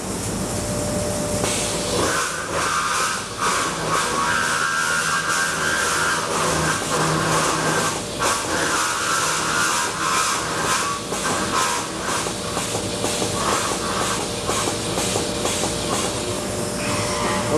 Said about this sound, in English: Right now he's doing his edge prep operation and preparing to do his lock bore assembly.